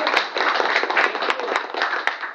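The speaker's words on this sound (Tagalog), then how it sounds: "Palakpak naman dyan." Audience at a marketing plan presentation clapping briefly, a sparse, uneven patter of individual claps heard close by for a couple of seconds.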